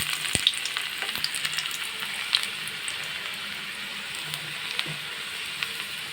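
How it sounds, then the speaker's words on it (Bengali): Chopped garlic fries in hot oil with dried red chillies for a tempering, a soft, steady sizzle with a few light clicks and scrapes of stirring. "এখন আমি ফোড়নে রসুন কুচি দিয়ে দিলাম"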